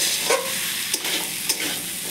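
Masala spices for ghugni sautéing in a pan, a bright steady sizzle broken by a few scraping stirs of a spatula, close and fairly loud with no voices.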